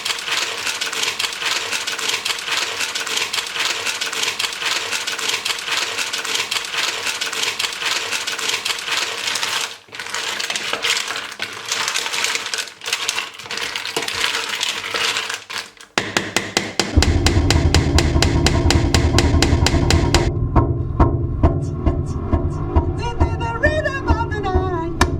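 Mussels cook in a pot with rapid, dense clattering and rattling of shells that goes on steadily. It grows louder and fuller partway through, joined by a low hum.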